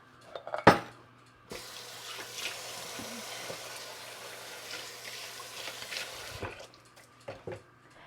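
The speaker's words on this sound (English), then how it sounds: "I'm going to wash my hands again" Hands are washed under a running kitchen tap: a knock, then a steady stream of water splashing into a sink for about five seconds before it shuts off, followed by a few small clatters.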